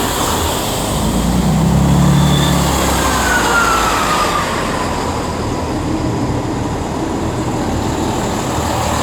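Class 158 diesel multiple units at Shrewsbury station fill the air with a loud, steady engine rumble and a rising whine, heard nearby without talk.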